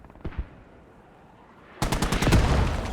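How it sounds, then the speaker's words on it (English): Mortar rounds land around a tank in a combat video game, a few faint thumps followed by a sudden loud burst of rapid, crackling explosive impacts that keeps going. "Mortars just landing on the tank"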